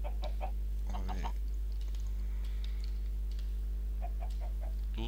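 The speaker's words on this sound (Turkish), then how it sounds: "bu taraf tavuk cenneti ya" Blocky Minecraft chickens clucking in a countryside area full of hens, short repeated clucks scattered across a steady low hum of game background sound.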